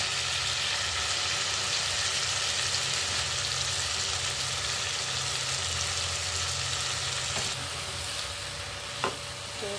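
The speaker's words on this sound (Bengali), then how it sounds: "ঠিক এই পর্যায়ে এখন মোচার সেদ্ধটা দিয়ে দিচ্ছি" Boiled banana flower goes into a pan of frying spices, raising a loud, continuous close-up sizzle with scraping stirring that runs steadily and eases slightly near the end, with no voices.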